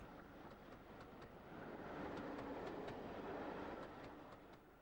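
A Great Northern-designed K3 steam locomotive runs on the Bury St Edmunds line, giving a steady, fairly faint rumble with faint clicking from the wheels that swells slightly mid-way and eases toward the end, with no voices.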